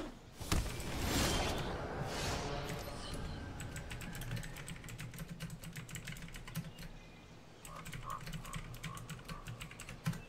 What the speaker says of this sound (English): Alright, got our typing in.